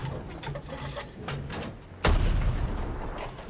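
Tank cannon fire in Battlefield 6, with a soft thudding rhythm of distant shots followed by one heavy, close boom that rolls on into a sustained rumble.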